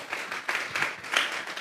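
A church congregation claps hands together in a sermon, a few loud bursts of crowd clapping swelling and fading over a brief moment, with no talk.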